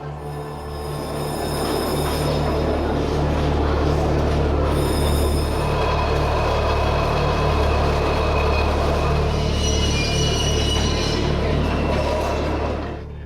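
Electric narrow-gauge railway train rumbling steadily through the gypsum and marl tunnels of the underground Hackenberg fortress on the Maginot Line, a loud, continuous low drone with faint metallic wheel squeal throughout.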